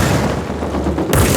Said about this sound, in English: Now for the grenade launcher.